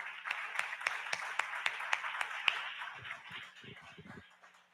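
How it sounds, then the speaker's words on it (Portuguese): Congregation applauding during a church service, a steady wash of many hands clapping with sharp individual claps standing out, thinning toward the end while a voice speaks underneath. "Aplaudemos o Deus."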